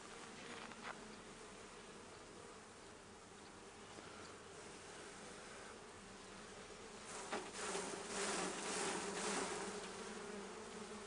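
Honeybees in a top bar hive hum as a steady, soft, continuous drone that grows fuller and louder for a few seconds near the end.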